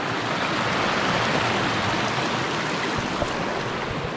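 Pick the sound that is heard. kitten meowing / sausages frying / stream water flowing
stream water flowing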